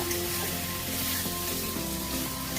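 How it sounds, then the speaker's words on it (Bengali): Spice paste for a soya chunk and potato curry frying in a little oil, giving a dense, continuous close sizzle with no pauses. "খুব ভালো করে মশলাটা কষে নিচ্ছি।"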